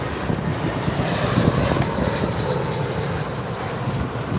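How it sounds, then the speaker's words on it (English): British Airways Airbus A380 on approach to land on runway 27R at London Heathrow, a loud continuous jet engine roar with broadband rumble and wind buffeting on the microphone. "British Airways A380"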